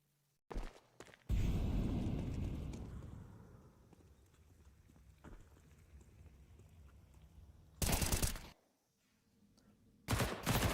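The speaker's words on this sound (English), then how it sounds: "Headshot from Winkle" Gunfire in a Counter-Strike esports match with Galil rifles and Tech-9 pistols: short, loud automatic bursts break out, then a quieter stretch, then two more sharp volleys.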